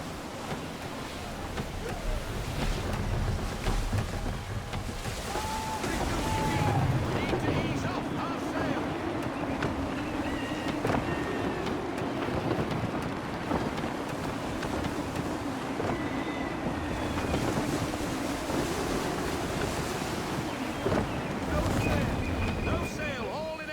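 A sailing ship in Assassin's Creed 3 moves through rushing wind and washing waves in a continuous, moderately loud roar, with creaking timbers and occasional whistling tones and game voices speaking over it.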